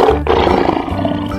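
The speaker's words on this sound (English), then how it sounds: "Lion." A lion gives a single loud, close roar that swells and rumbles low before trailing off.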